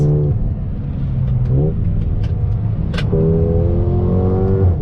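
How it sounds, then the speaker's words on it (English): A 2021 Mercedes-AMG GLA 35 performance SUV heard from inside the cabin: its engine blips through quick downshifts, then pulls hard, with rising revs filling the clip and no talk. "Nice downshifts, super smooth, look at this."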